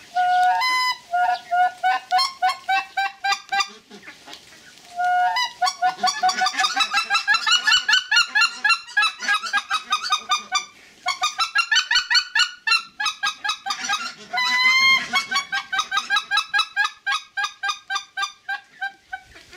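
A Schoolhunter Dominator mouth call is blown to mimic white-fronted goose calls, giving loud, close bursts of rapid high honks in quick rhythmic runs with short pauses between them.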